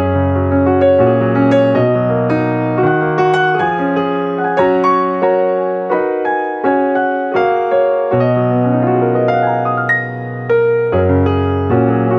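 A processed sampled stage piano in Kontakt, with compression and reverb, plays chords and melodic runs continuously, full and sustained with a roomy reverb tail, no voices.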